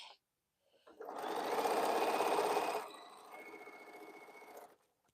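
A sewing machine stitches a quilt, starting after a brief pause with a loud, fast whirring hum for about two seconds, then carrying on more quietly at a lower pace before stopping, with no talking.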